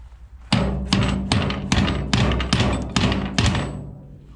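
Eight sharp metallic taps of a small hammer in a steady rhythm, close by, each ringing briefly before the next strike.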